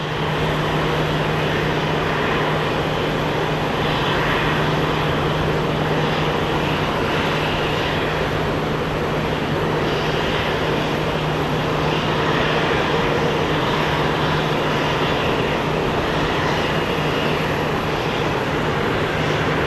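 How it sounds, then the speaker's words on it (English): A jet aircraft landing at Phoenix Sky Harbor airport produces a continuous loud engine roar and rushing whine that holds steady throughout, with no talking. "you decided to land when an MD-11 was going to land"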